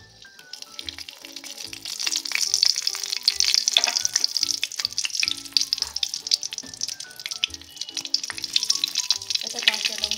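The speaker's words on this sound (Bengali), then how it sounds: "এবারে তেলেতে তেজপাতা, শুকনো লঙ্কা দিয়ে দেওয়া হবে।" Bay leaves and dried red chillies frying in hot oil in a home kitchen, a steady bright sizzle and crackle running throughout, with faint voices and clinks underneath.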